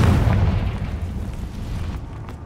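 A Confringo fire spell explodes in Hogwarts Legacy with one heavy, close boom whose deep rumble rolls off gradually over a couple of seconds.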